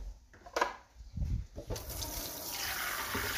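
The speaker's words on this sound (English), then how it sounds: "just want to take a little bit of water" Water poured from a container into a pot of simmering cranberry sauce to thin it, with clinks and handling at first and then a steady splashing pour that runs on to the end.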